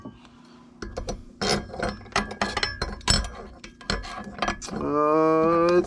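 Metal puller working a bearing into a 2005 Kawasaki Brute Force 650 front differential gives a series of sharp ratcheting clicks and metallic clinks, close and uneven, followed by a sustained tonal creak at the end.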